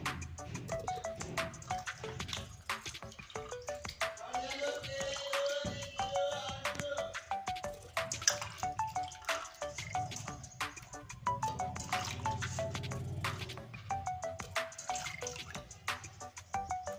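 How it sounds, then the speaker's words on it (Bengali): Water pours and drips onto jackfruit pieces in a cooking pot, a faint, continuous splashing trickle with intermittent drips and some background kitchen noise. "আমি জল ঢেলে দিচ্ছি এঁচড়ে"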